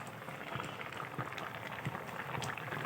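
A potato and pointed gourd dum curry simmering in a pot, soft continuous bubbling with small pops and faint spatters, quiet and close, with no talking.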